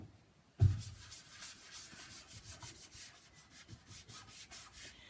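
A sponge loaded with clear wax rubs across painted furniture with a transfer, making soft, rhythmic scrubbing strokes that follow a brief knock at the start and carry on steadily and close.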